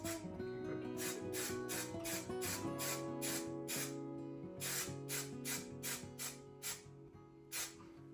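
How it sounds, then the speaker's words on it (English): 3M 77 spray adhesive hisses from an aerosol can onto N gauge model railroad sea foam trees, in a rapid run of short, close bursts over a steady mechanical hum. "we're just going to give it a nice spray"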